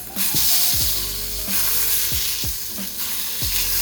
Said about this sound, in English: put the salmon on the pan when it's sizzling and cook it for like a minute or so